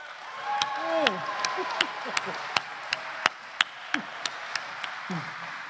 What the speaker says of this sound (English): You guys supposed to clap.